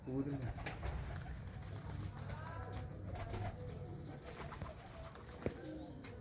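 Pigeons coo softly and continuously at a loft where a young blue pigeon has been flying, a low murmuring bed with a few brief chirps, while people talk nearby and occasional handling knocks sound.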